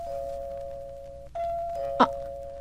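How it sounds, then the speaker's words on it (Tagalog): A doorbell sounds as a steady electronic tone that briefly breaks off and resumes, with a sharper struck chime near the end, heard indoors over a low background hum. "May nagdo-doorbell."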